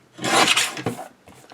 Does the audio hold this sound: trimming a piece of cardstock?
yes